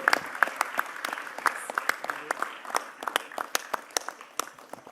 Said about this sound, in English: let's give all our leadership a bigger round of applause